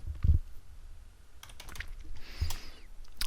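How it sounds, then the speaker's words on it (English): Computer keyboard being typed on while entering a command, a few quiet scattered keystrokes and clicks spread across a short stretch, close but soft. "Oops, helps if I type in the right commandlet here."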